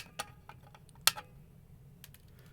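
Sharp snips of cutters trimming component leads on a DIY mic preamp circuit board, a few sparse faint clicks with one brighter crisp cut near the middle, close and quiet with no talk.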